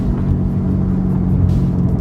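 A C8 Corvette fitted with a LeMans Edition exhaust rumbles steadily at close range, a deep, even engine drone with no revving or passing swell.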